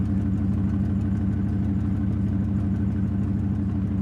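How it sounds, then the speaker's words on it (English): A truck engine idles steadily up close, a continuous low, throbbing rumble with a faint rhythmic pulse that holds level throughout, with no talking over it. "I do apologize for the sound of the truck"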